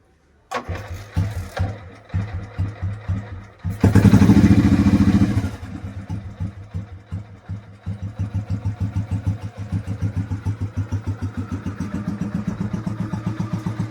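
A Royal Enfield Electra 350 motorcycle is kick-started after a few kicks, briefly revved, then settles into a loud, close, steady single-cylinder thump at idle.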